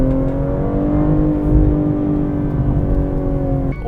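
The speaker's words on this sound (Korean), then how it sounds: "배기 소리에서 뭔가 북치는 듯이 하는 이런 소리를 내는데" A BMW M240i engine revs loudly with a deep, throbbing, drum-like exhaust drone that holds steady, then drops off sharply at the end.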